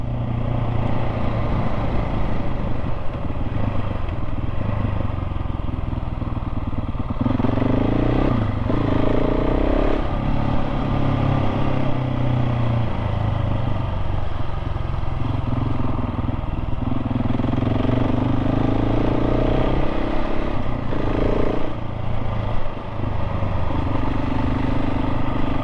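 A KTM 690 SMC R motorcycle, a 2024 model, ridden on a gravelly, potholed, bumpy road, its single-cylinder engine droning loudly and rising and falling in pitch as the throttle changes, with wind rush and occasional rattles, no voices.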